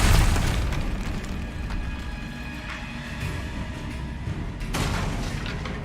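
Confringo fire spell explosion in Hogwarts Legacy, a heavy boom at the start that decays into a rumbling tail, followed by lighter bursts and another swell near the end.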